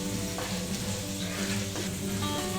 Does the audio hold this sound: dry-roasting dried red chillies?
yes